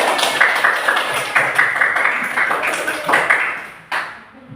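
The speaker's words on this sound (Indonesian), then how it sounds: "Oke, tepuk tangan." A classroom group gives a round of rhythmic clapping for the third presentation group, steady repeated bursts of many hands, fairly loud and close, fading out near the end.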